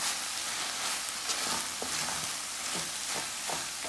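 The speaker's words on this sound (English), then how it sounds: "So we're gonna give this a good mix." Cottage pie meat filling with fresh parsley and cilantro stirred in a hot pan, a soft steady sizzle with light scraping strokes of the spoon recurring every half second or so, fairly quiet and close.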